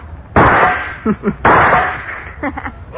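Two sharp, loud rifle shots from an old radio drama crack about a second apart, each followed by ricochet-like pings or clangs off tin cans.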